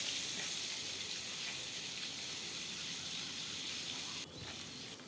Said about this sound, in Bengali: উল্টে পাল্টে আমি লালচে লালচে করে মাছের মাথাগুলো ভেজে নেব